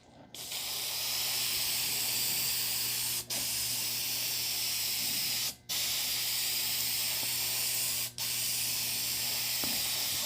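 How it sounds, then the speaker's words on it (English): Aerosol spray can sprayed onto glass, a steady loud hiss held for about ten seconds with three brief breaks where the nozzle is released, no talking. "I've already shook my can for 2 minutes. The spray can, not my actual can."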